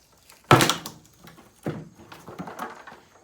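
A refrigerator door is broken off during demolition, with a sharp, loud cracking thunk, then a second duller knock and softer rattling and clattering after it.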